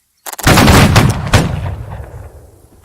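A volley of gunfire from a firing rank erupts as several near-simultaneous loud, close shots crash together, then fade into a rolling echo.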